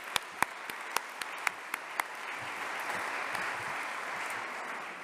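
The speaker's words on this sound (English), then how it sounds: "let's give them another round of applause" A few sharp individual claps ring out first, then a soft, steady patter of applause builds and continues at a church jazz vespers service, heard at a moderate distance.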